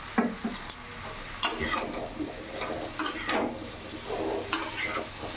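Green chillies and sweet pumpkin fry in a pan, a soft sizzle broken by the scrape and clink of a spatula stirring in irregular strokes, close and fairly quiet, with no voices.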